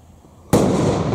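A firework goes off close by during a small group's fireworks gathering: a sudden loud bang after a quiet moment, then a dense, sustained crackle.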